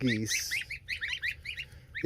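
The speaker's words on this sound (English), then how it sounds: "I said these are Chinese geese, and they are eating machines." Chinese geese in a backyard food forest give a quick run of short, high calls, close by and repeated in uneven bursts.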